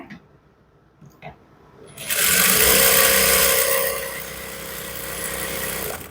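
A sewing machine runs steadily, stitching a baby boy's half pants; after a couple of faint taps it starts abruptly and holds a loud continuous whir that eases slightly toward the end.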